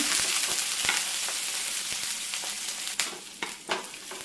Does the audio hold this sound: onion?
yes